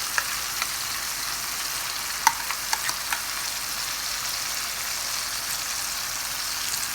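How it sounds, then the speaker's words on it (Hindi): A pan of masala with softened tomatoes sizzles and fries steadily for chicken tikka koyla karahi as about three tablespoons of yogurt go in, with a few faint clicks over the continuous hiss. "अब हमने यहाँ पर योगर्ट लिया है मैंने, ये मैं डाल रही हूँ तकरीबन 3 टेबलस्पून।"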